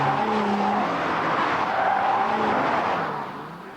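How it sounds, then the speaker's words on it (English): An MG ZR hot hatch, a made-over Rover 45, is driven hard with a steady, loud engine roar and tyre noise that fades slightly toward the end. "Who would have thought that a made-over Rover 45 would sound like this for a start?"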